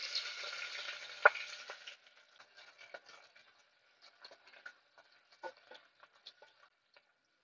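Broadband sizzle of onions frying in a pan on a low flame fills the first two seconds, then thins into sparse crackles and pops as the pan quiets down.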